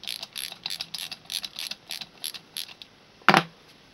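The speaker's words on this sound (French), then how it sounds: "Et vous desserrez et vous faites le même pour les 6 boulons." A wrench loosens bolts with a quick series of short metallic ratcheting clicks, evenly paced and close, followed by one sharper louder clank near the end; no voices.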